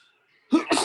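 A single sharp sneeze bursts out close by after a moment of near silence, loud and abrupt.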